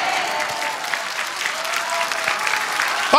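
A large congregation bursts into steady, dense applause during a sermon, a continuous roar of many hands clapping at even loudness throughout.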